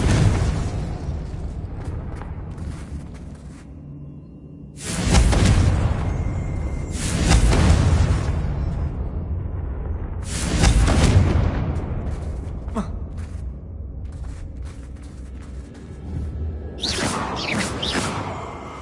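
Fire and blasting spells are cast in a wizard video game, producing several loud whooshing, booming bursts spaced a few seconds apart over a low ambient rumble.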